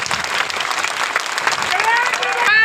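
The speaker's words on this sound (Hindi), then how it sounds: "तालियों की गड़गड़ाहट से," A crowd at a campaign rally for Maharashtra Deputy CM Devendra Fadnavis in Dhamtari bursts into thunderous applause, with cheering voices rising and a tonal shout swelling near the end.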